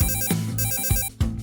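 A telephone ringing in a loud electronic pattern, bright tonal bursts repeating in quick pulses with brief gaps between, close and dominant.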